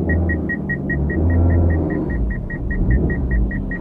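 A manual Suzuki Ignis engine rumbles low and steady while reversing up a steep, narrow slope, swelling slightly as gas is added, with a regular electronic beep repeating throughout.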